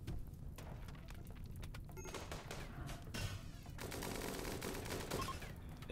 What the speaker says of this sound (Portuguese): É tiro.